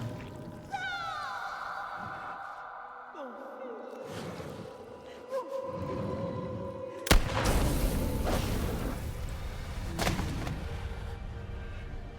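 A gunshot in The Quarry horror video game, a sudden loud boom that cuts through tense game music and voices, followed by lingering rumble and a second softer thud.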